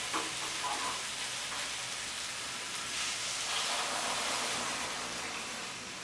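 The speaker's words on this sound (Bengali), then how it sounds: "এবারে আমি এর মধ্যে উষ্ণ গরম জল দিয়ে দেব।" Warm water poured over fried spices and vegetables for an ilish fish curry, giving a steady, even hiss of bubbling and simmering that holds throughout at moderate loudness, with no voices.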